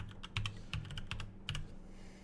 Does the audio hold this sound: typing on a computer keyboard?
yes